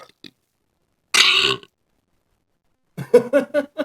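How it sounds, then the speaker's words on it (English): A single loud, rough belch bursts out alone after a moment of quiet, followed shortly by a voice talking. "I got a burp that won't come out"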